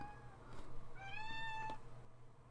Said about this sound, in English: Sorry, that was my cat.